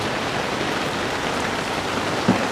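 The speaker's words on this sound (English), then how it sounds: "It's a downpour." A heavy rain downpour in New York, hissing steadily and loudly on surfaces in a dense, unbroken wash, with one small knock near the end.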